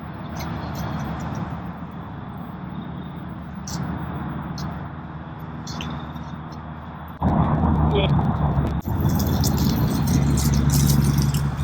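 An Elofty Thunderbolt electric skateboard in four-wheel drive, low mode, grinds up a hill with a steady motor whine and clattering wheels, growing louder partway through, while someone speaks over it.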